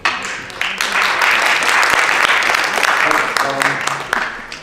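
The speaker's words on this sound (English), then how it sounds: "I want you guys to hold the applause until the end after everyone has spoken" Sustained applause from an audience at a student election debate, dense and loud, swelling and then tapering off, with some voices mixed in near the end.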